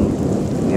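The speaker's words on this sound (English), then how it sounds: "we are getting this huge thunderstorm right now" Heavy rain pours during a huge thunderstorm outside an apartment, with deep rumbling thunder rolling underneath, loud and dense throughout a brief moment, no voices.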